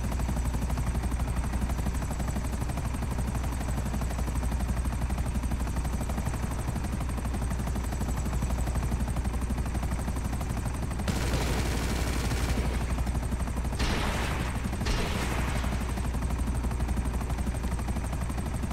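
A helicopter flying in Grand Theft Auto V, steady rotor thumping and engine drone throughout, broken late by a few bursts of rapid gunfire.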